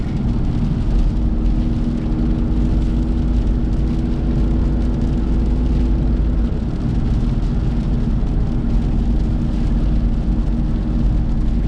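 A 1995 Mitsubishi Delica L400 van with a five-speed manual cruises on the highway at about 100 km/h and 2,500 rpm, giving a steady, loud engine drone and road roar with wind noise, no voices.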